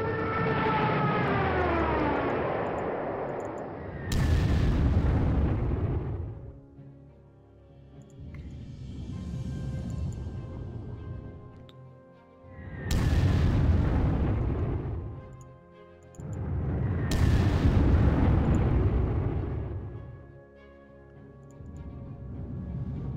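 An artillery attack in the game Panzer Corps brings repeated heavy booms and a wailing, siren-like tone that fade out slowly, with several big impacts spaced seconds apart.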